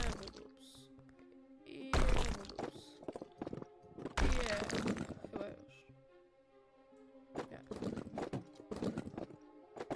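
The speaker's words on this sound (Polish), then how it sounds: "bierzemy nasz młot" Heavy repeated thuds and crunching impacts of a sledgehammer striking during demolition in the game House Flipper, irregular bursts over a steady background hum.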